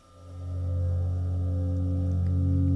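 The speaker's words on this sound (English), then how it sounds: "I hit a cymbal and then moved it closer to the mic as the resonance was coming out" A struck cymbal pulled toward a microphone as it rings, heavily processed into a smooth, low humming drone that swells in over half a second and then sustains steadily, fairly loud and alone.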